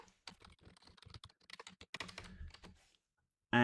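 Rapid typing on a computer keyboard while writing Rust code, a close, busy run of key clacks for about three seconds before stopping.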